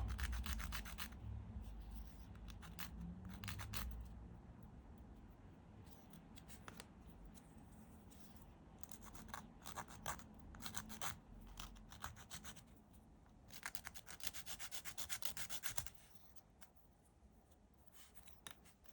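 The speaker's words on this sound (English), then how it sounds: "Just need to get a little bit of sandpaper, sanding stick, and just tidy them up." Repeated dry scraping strokes of a sanding stick on Moomin House model parts, rubbing back and forth in bursts with short pauses between, close and fairly quiet.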